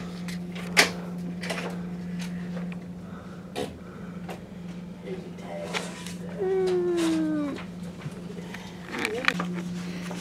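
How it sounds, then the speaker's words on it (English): A few isolated knocks sound on a cabin door aboard the Carnival Splendor cruise ship, over a constant low hum, with a brief drawn-out voice or whine in between. "somebody's knocking on the door"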